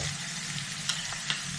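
Spices such as coriander, cumin, chili and ginger going into onions frying in a pan for a prawn and banana flower dish: a steady, even sizzle with a couple of faint clinks.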